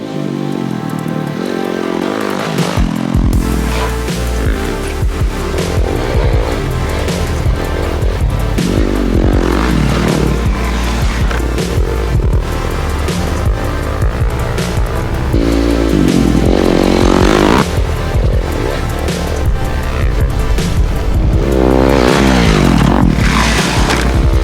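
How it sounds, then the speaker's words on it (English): Custom-built motorcycle rides loud and close, its engine droning with repeated revs and surges over a constant rumble, plus occasional mechanical clatter. "let's see what this bike we built is capable of"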